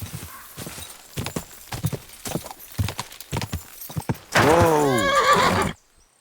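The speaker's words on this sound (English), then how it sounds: "is that horse still in the forest?" A horse in the medieval game Kingdom Come Deliverance 2 trots with rhythmic clip-clop hooves for several seconds, then lets out a loud, close neigh before the sound cuts to silence.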